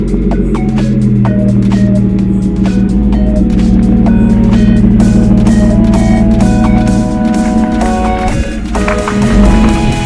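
A Honda CRF 450 R motard in Martini Williams livery idles as it warms up, its engine a steady, loud, close rumble with faint clinks of workshop tools over the top throughout.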